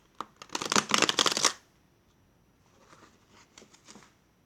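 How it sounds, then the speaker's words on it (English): Tarot cards riffle shuffled in two bursts: a loud, dense fluttering patter for about a second and a half, then a fainter, looser riffle after a pause. "This is so riffle shuffleable."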